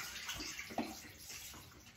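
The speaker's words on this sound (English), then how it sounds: "all I do is I dump out the developer" Film developer liquid poured out of a developing tank into a sink, a quiet continuous splashing gush of water lasting a couple of seconds, with no voices.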